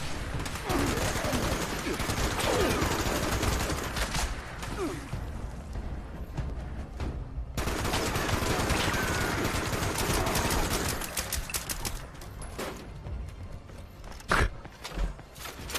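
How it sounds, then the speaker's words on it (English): Rapid bursts of automatic gunfire in Fallout 76 rattle almost continuously for about seven seconds, break off briefly, then resume dense and loud, thinning into a few scattered shots near the end. "Is this guy shooting me or what?"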